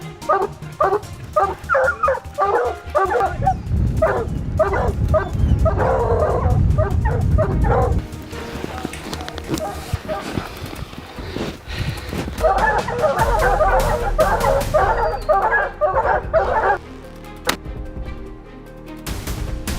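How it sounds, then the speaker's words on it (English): Hunting hounds bay and bark in repeated bursts at a black bear in Montana, the barks loud and close over a low roar of rumbling noise, pausing midway before a second dense run of barking. "It is at this moment the dogs are brought in."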